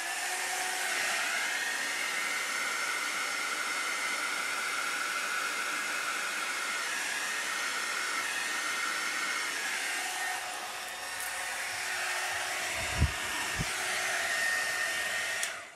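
Hair dryer blowing across wet acrylic paint in a fluid art pour with silver cells, a steady loud close whoosh that runs nearly throughout, with a few brief bumps and shifts near the end.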